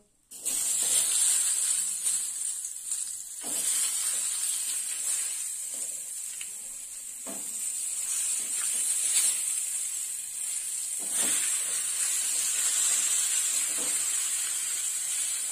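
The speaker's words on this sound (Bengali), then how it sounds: "এবার বেগুনগুলো ভেজে নেব।" Halved eggplant slices frying in a pan, a steady bright hiss and sizzle that runs continuously with small crackling bursts and shifts as the pieces are moved.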